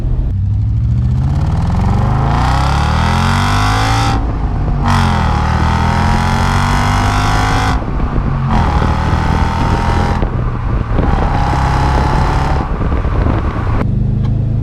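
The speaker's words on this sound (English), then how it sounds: "you're not really going to hear it that well unless you're way high in the revs and you are burying the pedal" A 2012 Audi S5 engine revved hard to high rpm under full throttle, loud and close, with rising pitch sweeps broken by brief gear-change dips, repeated several times with wind rush over the microphone.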